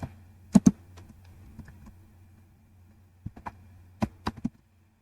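Code is typed on a computer keyboard in short bursts of sharp, close key clicks separated by quiet pauses, with no talking.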